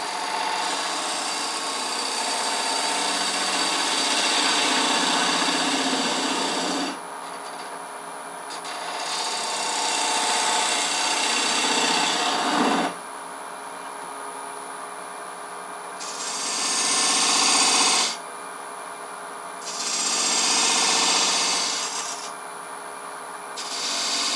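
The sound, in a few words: wood lathe turning, spindle detail gouge cutting a hollow form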